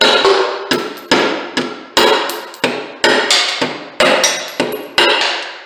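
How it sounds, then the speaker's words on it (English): A hammer chips ceramic tile around a toilet flange cutout, a dozen or so sharp, ringing strikes in an uneven rhythm, each decaying briefly, loud and close. "I can also use hammer, but you have to be very careful here."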